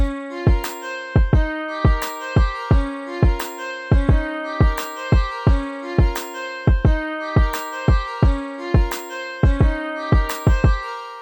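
A full hip hop beat plays with boomy kick drums and snappy hits under layered melodic keys, looping steadily at a mid tempo with no voices.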